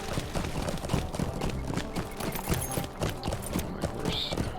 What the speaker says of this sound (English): My horse speed up a little bit here.